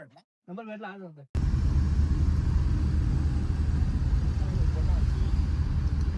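A new car drives along a road, its engine and tyre rumble steady and close inside the cabin after a short spoken phrase at the start, continuing as a constant low drone.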